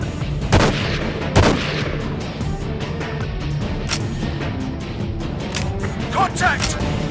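Gunfire in Battlefield 2: Modern Combat, with two loud, sharp shots early on, then scattered bursts over steady battlefield noise and radio-style voices.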